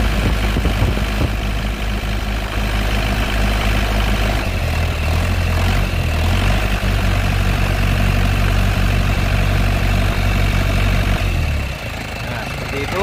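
A 1997 Isuzu Panther Grand Royale 2.5 diesel engine idles steadily and loudly up close with a low, rumbling drone, while a person talks over it.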